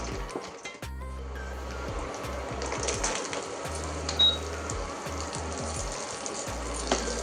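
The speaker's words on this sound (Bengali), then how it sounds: "কাজুগুলো একটু ভেজে নেবো।" Cashews fry in ghee for a carrot halwa, giving a steady close sizzle and crackle with a few light clinks from stirring in the pan.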